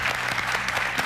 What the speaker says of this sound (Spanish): Un aplauso para ti, Moni.